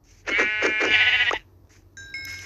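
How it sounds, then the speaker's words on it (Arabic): Several bleats from a sheep in Minecraft in close succession, clear and nasal, followed by brief synthetic chiming tones. "خروف خروف خرفان"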